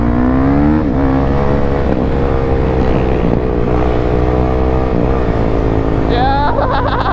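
Yamaha YZ450F dirt bike engine running and being ridden, a loud close continuous drone whose pitch rises and falls under casual talk.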